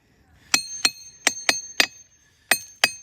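Rocks struck with a hammer give seven sharp, bright ringing clinks in an uneven rhythm, close and clear against near silence, each tone fading quickly.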